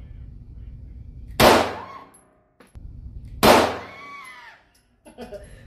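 Two loud gunshots from a machine gun at a shooting range, each a sharp broadband crack with a ringing metallic clang from the struck steel target, about two seconds apart, followed by quiet.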